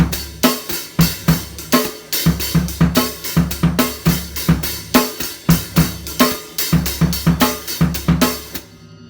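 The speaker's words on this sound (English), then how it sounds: "So both measures together on the hi-hat here sound like this" A drum groove from a song's intro played on hi-hat, sharp rhythmic hits with accented strokes repeating steadily for several bars, up close and clear.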